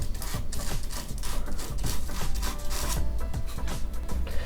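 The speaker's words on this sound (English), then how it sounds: "you can easily take a barbecue skewer or a razor blade and kind of just scrape that out" A barbecue skewer or razor blade scrapes foam residue out of a cavity with quick, repeated rasping strokes, close and busy, in an irregular rhythm.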